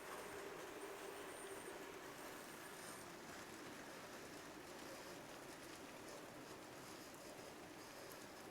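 An N scale model train passing on a layout, a very faint steady rolling rumble with light clicking and occasional thin squeals, continuous throughout.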